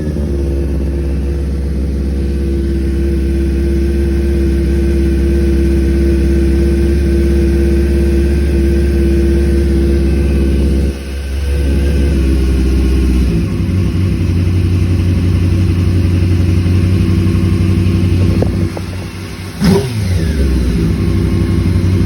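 A motorcycle engine runs at a steady idle, loud and close, holding a constant drone before its pitch settles slightly lower midway, with no voices present.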